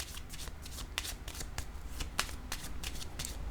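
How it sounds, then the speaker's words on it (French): Tarot cards handled during a reading, with repeated crisp papery flicks and slaps of cards being shuffled and set down, close and steady throughout, no talking. "je vais déposer une carte ici"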